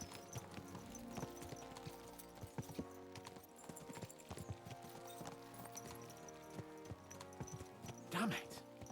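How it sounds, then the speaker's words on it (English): Horses gallop in the medieval video game Kingdom Come: Deliverance 2, with a steady, close clip-clop of hooves throughout and a brief whinny near the end. "Let's really spur these horses on, eh?"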